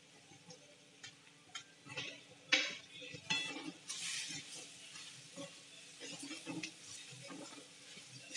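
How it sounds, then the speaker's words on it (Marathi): A spoon stirring red chili powder, garam masala and chole masala into a pan for chole, with scattered scraping and clinking against the pan, soft and close, mixed with faint sizzling. "छान आता आपण ते मिक्स करून घेऊया."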